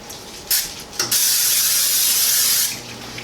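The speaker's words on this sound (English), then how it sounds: "Gonna lightly coat our pan with a little bit of Pam" Pam cooking spray hisses onto a roasting pan in a kitchen: two short puffs, then one steady, close, loud spray lasting about a second and a half before cutting off.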